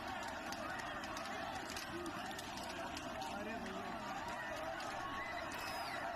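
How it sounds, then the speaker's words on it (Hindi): A large crowd gathered near Raza Masjid in Bareilly during a protest with police lathi-charge, a dense continuous roar of distant voices and murmur with no single speaker standing out. "तो भारी भीड़ यहाँ देखी जा रही है।"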